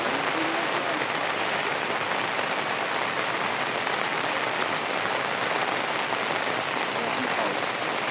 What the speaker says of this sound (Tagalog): Talagang anong ulan eh. Walang katigil-tigil.